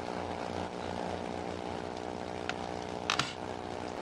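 Propeller plane flying in the virtual world of Second Life, a steady droning engine hum with buzzing harmonics holding level throughout, a couple of brief clicks and a short burst near the end.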